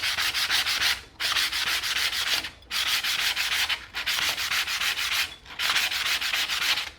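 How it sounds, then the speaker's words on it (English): Sandpaper rubs around a copper pipe in long, steady strokes, a loud rasping hiss in four or five bursts separated by brief pauses, with no talking. "you can take your sandpaper and just do a thorough job all the way around"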